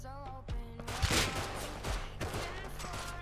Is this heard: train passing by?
no